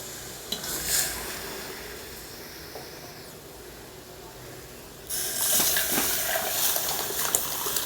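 Cooked dal poured into a hot spiced tempering for Maharashtrian varan, a soft low hiss at first, then a louder bright sizzle that bursts in and carries steadily to the end, with a faint clink of a pot.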